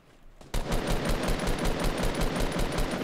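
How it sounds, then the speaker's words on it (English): Rapid automatic gunfire in the Fortnite video game starts abruptly after a brief quiet moment and then continues as a fast, steady stream of loud shots aimed at a launch pad. "Shoot the launch pad down if you can."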